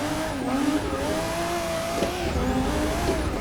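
A car drifts with the e-brake pulled in a driving video game, its engine whining steadily under a continuous squeal of sliding tires that rises and falls through the slide, loud and close with no talking.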